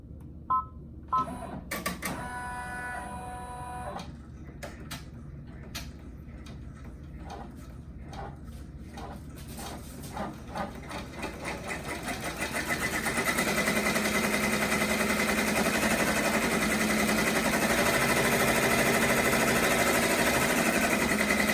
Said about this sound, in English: now that I have the thread loaded, I'm gonna go ahead and start the shirt.